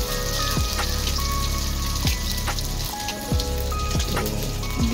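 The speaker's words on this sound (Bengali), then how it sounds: "তো ডিম ভাজা প্রায় কমপ্লিটের দিকে।" Eggs coated in spices fry in a pan with a steady close sizzle and scattered crackling pops, heard alone with no talk.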